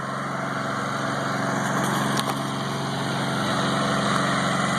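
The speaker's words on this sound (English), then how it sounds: "You got that little engine and that little alternator putting out about 318 watts." A small DIY generator, a little engine driving an alternator under load, runs with a steady high-pitched buzzing drone, close and constant, with no voices over it.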